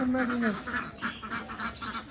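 Ducks quacking in a rhythmic series of close, moderately loud calls, with a person's voice briefly over the opening half-second.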